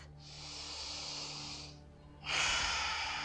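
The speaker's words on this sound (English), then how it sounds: "Let's take one more deep breath." During a yoga session, a slow deep breath is drawn in with an airy hiss, pauses briefly, then is released in a stronger, fuller exhale, close and clear.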